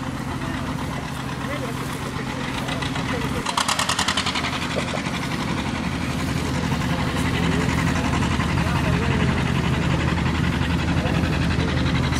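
An old Allis-Chalmers tractor engine runs at a steam and gas engine show, a steady chugging idle with a knocking beat, close by, while people talk over it and the outdoor crowd murmurs.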